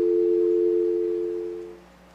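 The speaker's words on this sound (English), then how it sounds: "press on the coin hopper trigger so that the sensor is broken and you'll hear a dial tone" A steady dial tone from a modified payphone handset hums as a single continuous tone, clear and close, then fades out near the end.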